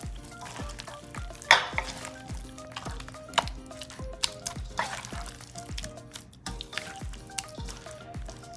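Wet squelching and stirring as chicken pieces are worked through a spicy marinade by hand for crispy fried chicken, a steady rhythm of sticky, liquid squishes close up with no talk.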